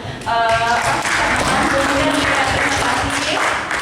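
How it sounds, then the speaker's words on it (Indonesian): An audience at a cash management system training workshop in Sragen breaks into loud, close applause that holds steady for several seconds, with brief tonal sounds and a little voice mixed in. "saya tepuk tangan sekali lagi untuk"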